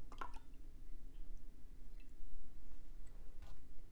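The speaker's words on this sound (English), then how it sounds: "And now we're gonna add Cocamidopropyl Betaine," Cocamidopropyl betaine surfactant is poured into a DIY foaming hand wash mixture, making faint, soft wet drips and squishy liquid sounds with a few light ticks in a quiet room.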